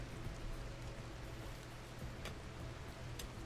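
Soft, steady rain falls in the colony-building game RimWorld, a faint continuous hiss with a few light ticks and no voices.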